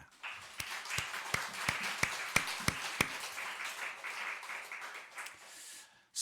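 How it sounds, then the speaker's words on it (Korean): A church congregation applauding together after a sermon point, a few sharp individual claps leading into a steady round of applause that fades out, heard at moderate distance in a large room. "박수 한번 칩시다."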